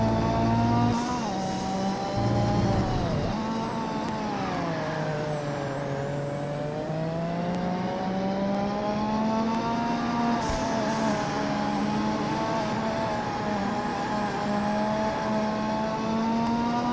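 Race car engine in the PlayStation 2 racing game TIR - Total Immersion Racing: a loud, continuous whining drone that rises and falls steadily as the car accelerates, alone with no talk.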